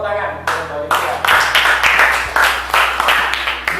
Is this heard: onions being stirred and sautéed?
no